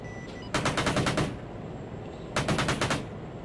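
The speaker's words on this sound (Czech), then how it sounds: "Bereme kanónem, hajzle." Cannon fire from an aircraft in a flight combat video game: two loud, rapid bursts of gunfire, each about three-quarters of a second long, separated by a short quiet gap.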